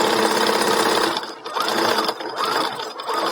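A sewing machine stitching a leotard, loud and close, running in rapid bursts with short pauses and speed changes between them.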